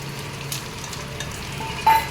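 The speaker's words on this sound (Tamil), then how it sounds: "இப்போ உளுத்தம்பருப்பை போட்டுட்டு லைட்டாக இந்த மாதிரி கலந்து விட்டுக்கணும்" Urad dal stirred and dry-roasting in a pan, giving a soft, steady low sizzle with faint scraping of the spoon, plus one brief louder clink near the end.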